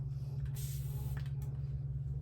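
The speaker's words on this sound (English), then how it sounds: "you want to spray it over a towel" Hair spray hisses out of a can in a short, close burst, followed by a fainter brief puff, over a steady low hum.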